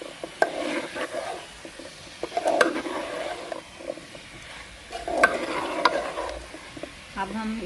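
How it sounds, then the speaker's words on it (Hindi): Chopped potatoes and green capsicum are stirred in a pan, with scraping spatula strokes and clinks coming in bursts over a soft, steady sizzle, close and with no voices. "अब हम इसे अच्छे से भूनेंगे और सब्ज़ी को हमने अच्छे से हम भून रहे हैं।"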